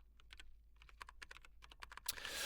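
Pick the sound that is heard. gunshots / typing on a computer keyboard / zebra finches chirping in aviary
typing on a computer keyboard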